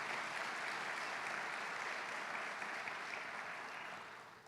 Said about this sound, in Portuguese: Quero ouvir um aplauso bem forte ao Espírito Santo de Deus.